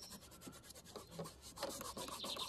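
Magic foam sponge scrubbing a stain on plastic car door trim, heard as a close, continuous rasping rub in quick back-and-forth strokes that grow louder toward the end, with no voices.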